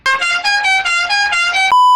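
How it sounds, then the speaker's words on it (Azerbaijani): The horn of a Nissan Patrol rally car blares loudly at close range for about two seconds in a series of quick pulsing honks, then holds as a steady final tone. "kornaya bas"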